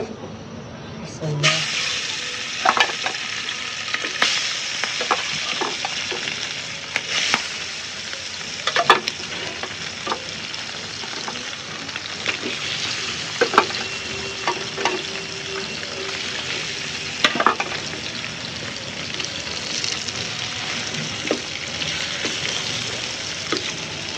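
Tengra fish frying in a pan on a home veranda make a continuous hissing sizzle, with frequent sharp clinks and scrapes of stirring, close and steady throughout.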